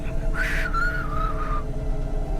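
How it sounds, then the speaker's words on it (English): A whistled tune from a CloudPunk game character, thin and slightly wavering, carried in one sustained phrase of about a second over steady low background hum. "I can't even whistle in tune"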